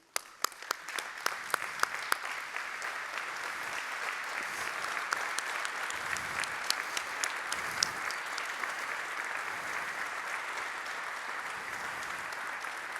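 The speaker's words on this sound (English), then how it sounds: "let's just give them a round of applause," A hangar audience at an aerospace company event claps for colleagues, beginning with a few scattered sharp claps that quickly swell into steady, sustained applause lasting well over ten seconds.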